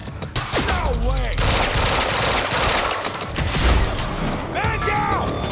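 Dense, continuous gunfire from the Quantum Break action game, with rapid bursts and booms filling the whole stretch while voices call out over the shooting.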